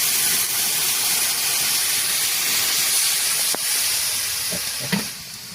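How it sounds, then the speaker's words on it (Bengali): Water poured into a pan of fried snakehead fish sets off a loud, steady hiss and sizzle. The sound carries on for several seconds, then fades near the end as a light clatter is heard. "মাছ ভাজা হয়ে গেছে, এবার আমরা জল দিয়ে দিলাম।"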